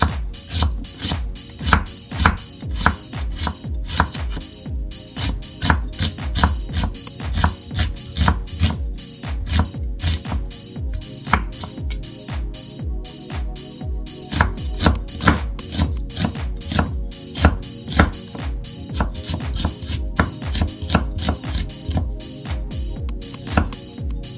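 A knife slices onions thinly, chopping rapidly and steadily on a cutting board, dense rhythmic knocks continuing throughout with no talking.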